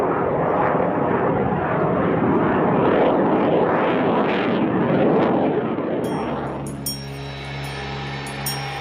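An X-31 experimental jet aircraft flying maneuvers, a loud roaring engine rush that swells and wavers for several seconds before fading into a sustained tonal drone.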